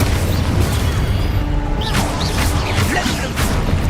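An Expulso blast spell goes off in a wizarding video game, with bursting, crackling explosion noise and a few sharp pops over dense, continuous game sound.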